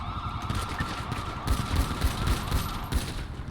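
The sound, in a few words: gunshots in police academy training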